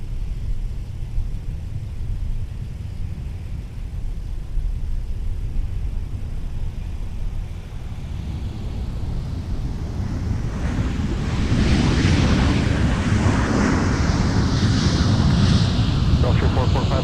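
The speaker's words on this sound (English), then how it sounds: "WestJet arriving on the south parallel" A WestJet airliner arrives on the south parallel runway at Minneapolis–St. Paul airport. Its jet roar swells out of steady wind-like rumble about two-thirds through and holds, broad and fairly distant.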